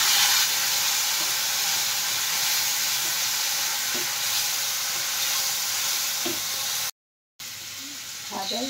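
Onion, ginger and garlic paste sizzles steadily in a hot pan, a loud, continuous frying hiss with faint scrapes of stirring, briefly cut by a short silence near the end.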